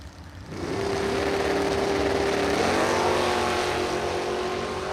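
A Mustang and a Camaro at Byron Dragway launch into a loud, sustained engine roar that swells after a quiet start and holds steady as the cars run down the drag strip.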